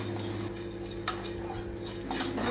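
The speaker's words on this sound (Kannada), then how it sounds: "ಬ್ಲ್ಯಾಕ್ ಪೆಪ್ಪರ್, ಆಮೇಲೆ ಹಾಗೇನೆ ಕರ್ಬೇವಿನ ಸೊಪ್ಪು, ಇದನ್ನು ಹಾಕಿ ನನಗೆ ಚೆನ್ನಾಗಿ ರೋಸ್ಟ್ ಮಾಡ್ಕೊತಾ ಇದ್ದೀನಿ" Black pepper and curry leaves being dry-roasted and stirred in a pan, heard as a steady metallic scraping of a spoon against the pan with faint rattling of the spices, close and continuous.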